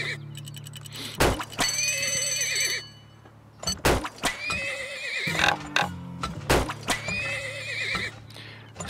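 Video game horses whinny loudly several times in bursts, with hooves clopping and a few thunks and clatters in between over a steady low background hum.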